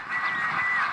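A short nasal honking call from Indian runner ducks, loud and close, sustained for about a second over faint background noise.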